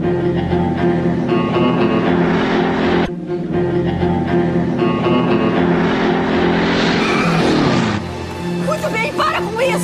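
A Volkswagen Beetle drives hard and skids, its engine roaring loudly and continuously with tire squeal rising near the end, set against a busy film soundtrack.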